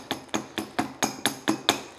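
A small hammer tapping a tight washer loose on an EK Civic wheel fitting, eight sharp metallic taps in a quick, even rhythm, close and clear with no voices.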